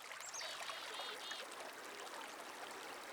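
Water flowing over the outlet of a wilderness lake, a continuous soft rush and trickle with a few faint bird chirps above it early on.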